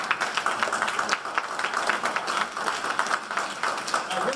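An audience at a Joseph Carter Corbin Day commemoration breaks into continuous applause: a dense, even wash of many hands clapping at moderate volume that holds steady for several seconds with no clear speech on top.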